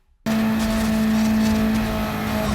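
Race car lapping the Daytona oval in Gran Turismo 7, starting abruptly into a steady, loud, high engine drone at constant speed, held close without pause.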